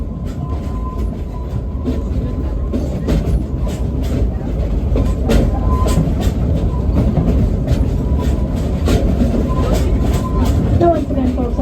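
Train ride at Silver Dollar City, a steady loud rumble and rattle of the moving cars with clickety-clack throughout, under a voice talking over a loudspeaker.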